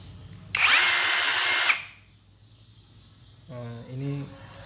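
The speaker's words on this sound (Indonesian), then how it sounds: "Nah, ini drilling seperti ini." An Ingco 20V cordless rotary hammer drills in a short, loud, high whining burst of about a second, then stops; someone speaks briefly afterward.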